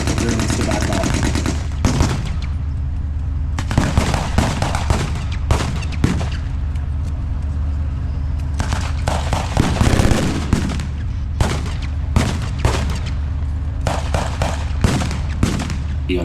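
Blank gunfire and machine-gun bursts at a tank weekend battle reenactment, with British troops and Germans exchanging fire outdoors, loud repeated rattling volleys and single shots throughout, with an announcer's amplified voice underneath.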